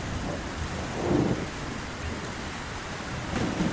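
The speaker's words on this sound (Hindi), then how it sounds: "इधर तेज तूफान और बारिश की वजह से भूरे और रीमा का भी घर टूट गया था।" Steady heavy rain hisses throughout while low rumbles of thunder roll in and out, with no voices.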